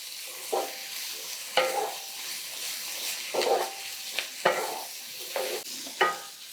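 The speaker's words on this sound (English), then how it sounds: "Stir that all around." A spoon stirs sizzling ingredients for chicken paprikash with red pepper flakes in a pan. About half a dozen sharp scraping strokes rise over a steady, soft frying hiss, with no talking.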